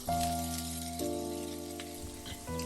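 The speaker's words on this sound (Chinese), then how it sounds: "切好的香菇全部下锅" Sliced shiitake mushrooms hit a hot pan with garlic and chili, giving a steady, close sizzle of frying under prominent background music.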